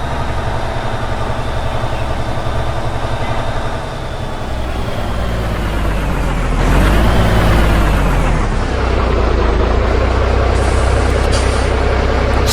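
A truck's diesel engine rumbles steadily as the vehicle pulls up and stops, then a loud hissing burst of air arrives as the air parking brake is set, followed by continued close idling.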